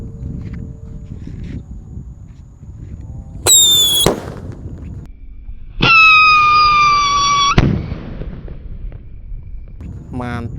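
A Happy Power 3 firework lit and set in the ground gives two loud, sustained hissing, whistling bursts, each lasting over a second, close by and over steady background noise.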